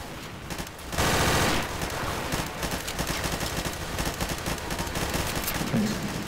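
Rapid, dense automatic gunfire from Counter-Strike: Source players shooting zombies on a jungle zombie escape map, loud and continuous with overlapping shots throughout.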